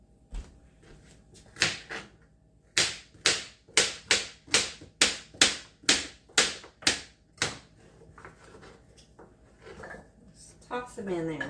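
A knife chops carrots on a cutting board during home cooking, giving a close, loud run of about a dozen sharp, evenly spaced knocks after a couple of opening strikes, then quieter kitchen handling.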